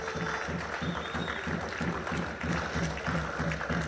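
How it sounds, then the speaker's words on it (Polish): An audience applauds at a cabaret stage show with the LUK Lublin volleyball team and Kabaret Smile. Steady crowd clapping runs throughout, with a regular low thumping pulse beneath it. "Brawa!"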